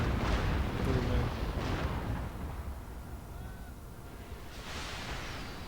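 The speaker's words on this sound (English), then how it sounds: "his rocket fire keeps up" Rocket fire in Napoleon Total War, a battlefield game: broad rumbling bursts of launches and booms, several in quick succession at the start and another near the end, fairly loud against a steady noisy background with no speech.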